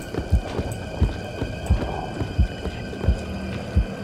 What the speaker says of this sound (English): Please stop with the fucking heartbeat.